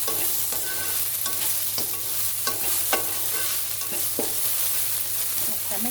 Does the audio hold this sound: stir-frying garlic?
yes